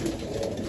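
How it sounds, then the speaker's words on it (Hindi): Rooftop flying pigeons coo softly in a brief, low murmur, faint and close with no voices present. "ये सारे उड़ान वाले छत के लगे हुए कबूतर हैं।"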